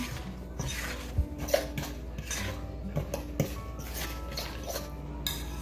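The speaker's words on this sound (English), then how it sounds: "we're gonna go ahead and stir that around really well." A utensil stirs chocolate chip banana bread batter in a bowl, making soft, wet scrapes and occasional light clinks against the side in an uneven rhythm, fairly quiet and close.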